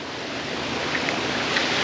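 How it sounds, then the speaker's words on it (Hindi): Spring water gushes from a pipe at a roadside spot in a Kashmir village where cars are washed, a loud, continuous close rush with wind mixed in and no break. "ये यहाँ से पानी जो आ रहा है ना वही चश्मे का पानी है, यहाँ से नीचे जा रहा है"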